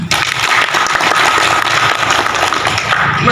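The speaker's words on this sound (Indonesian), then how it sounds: "Tepuk tangan." A crowd applauds, dense steady clapping filling the space loudly from start to finish.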